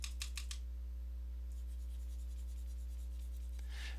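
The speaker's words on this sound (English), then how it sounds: "I'm going to draw it again." A pencil or marker sketches an outline figure on paper, a few quick scratchy strokes at the start and again near the end, faint over a steady low electrical hum.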